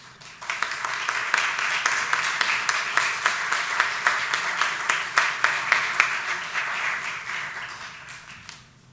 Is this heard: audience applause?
yes